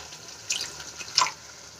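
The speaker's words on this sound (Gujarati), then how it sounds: "એમાં આપણે એક રસાઈ કપ જેટલું પાણી એડ કરીશું" A cup of water poured into simmering potato gravy, heard as two brief, soft splashes about a second apart against a quiet kitchen background.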